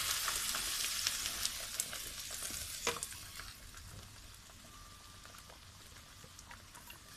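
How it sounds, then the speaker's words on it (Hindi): Mixed masala tipped into a pan of sizzling mixed vegetables, a steady close hiss of frying with a few sharp crackles and a brief scrape, settling into continuous quieter sizzling. "अब मैं इसमें जो मसाला मैंने मिक्स किया था सारा मसाला डाल रही हूँ।"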